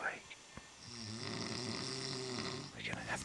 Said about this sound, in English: fucking snoring is keeping us awake